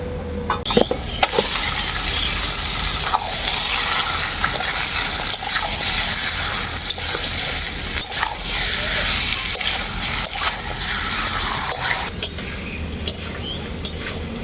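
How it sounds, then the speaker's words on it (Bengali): Marinated chicken tipped into lightly fried onions in a pan, stirred with a steady wet sizzle and occasional scrapes and clinks of utensil on metal, close and continuous. "এখন আমি দিয়ে দেবো ম্যারিনেট করা মাংসটা"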